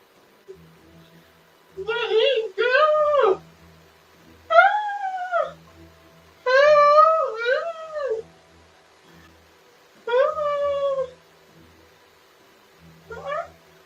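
A cat yowls in a played recording: several drawn-out, wavering meows come in separate bursts with short pauses between them, over a faint low hum.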